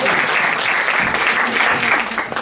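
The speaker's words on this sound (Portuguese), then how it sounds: "Uma salva de palmas aqui para o Miguel" Loud, dense applause from a lecture audience fills the room, steady clapping that thins slightly near the end.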